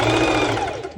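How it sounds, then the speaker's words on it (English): Sewing machine stitching the bust seam of a slippery mini skirt, a loud, steady, continuous mechanical whir that runs without a break for about a second. "it's a good idea to do the bust stitching first before going ahead to my"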